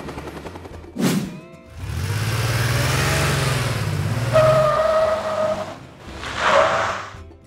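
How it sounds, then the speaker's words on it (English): A police car drives past with its engine rising and falling, a brief tire squeal marked by a tonal screech, and a short burst at the start and the end. "Police car."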